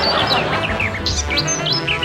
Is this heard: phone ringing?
no